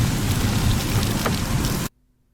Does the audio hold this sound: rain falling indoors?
yes